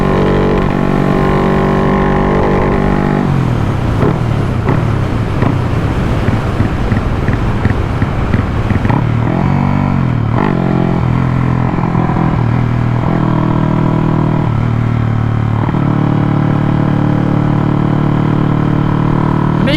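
A yellow Honda Wave motorcycle is ridden on an evening test run. A loud, continuous engine drone rises and falls with the throttle, heavily buffeted by wind noise throughout.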